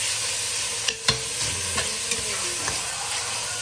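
Pork and Thai garlic stir-frying in a pan, a steady broadband sizzle broken by a few sharp scrapes and clanks of a utensil against the metal, close and continuous with no voices.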